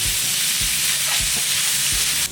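Ground meat browning in a frying pan, a loud, close, continuous sizzle with faint low thumps recurring every half second or so.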